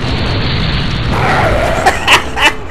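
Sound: grenade explosion in video game Resident Evil 4

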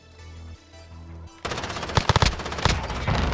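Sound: sniper rifle shooting in a video game

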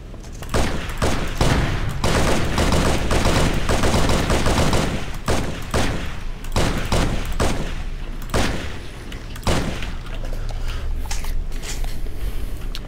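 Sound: assault rifle gunfire in video game Halo

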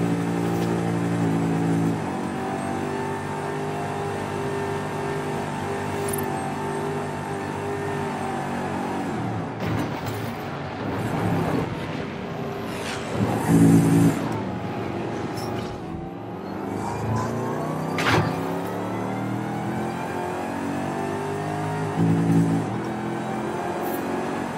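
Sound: car driving in the video game Forza Horizon 5

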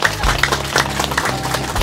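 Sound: wedding guests applauding

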